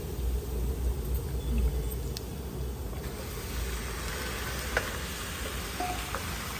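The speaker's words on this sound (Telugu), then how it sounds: "ఇప్పుడు చికెన్ కూడా వేసేద్దాం." Steady sizzling as 1 kg of chicken goes into a hot pan for a raw mango chicken curry, a constant frying hiss with low rumble and occasional clicks, no talking.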